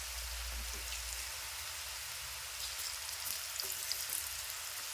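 Masala peanuts fry in hot oil with a continuous crackling sizzle, like light rain on a surface, steady and close, with a low rumble at the start that fades away.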